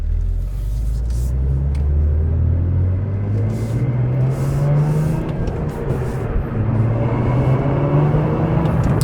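A Cadillac CT4-V Blackwing with twin turbos and a manual clutch pulls away, its engine a loud, steady low rumble that climbs gradually in pitch as it accelerates, heard from inside the car.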